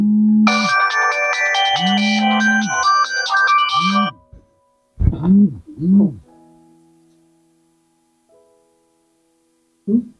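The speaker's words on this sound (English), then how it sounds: "the phone is ringing." A phone ringtone plays a bright, repeating electronic melody for about four seconds, followed by a few short tonal chirps and then near silence.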